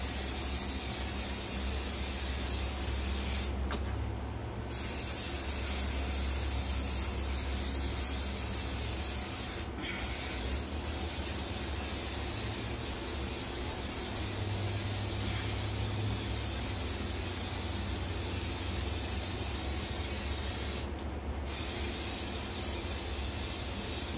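An aerosol can of Scotchgard protector sprays onto an upholstered headboard in a long, continuous hiss that runs almost unbroken, with only a few brief pauses, close to the nozzle.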